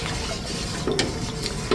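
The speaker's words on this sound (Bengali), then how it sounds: "একটু নাড়তে হবে চিনিটা গলে আসা পর্যন্ত" Sugar with cardamom pods is stirred in a pan as it melts, a soft continuous sizzle with a few light scraping strokes, close and unaccompanied by voices.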